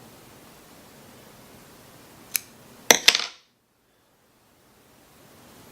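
Sharp scissor snips through a bunch of hair fly-tying material on a weighted surf candy fly, one faint click then two close crisp cuts a half second apart, followed by near silence.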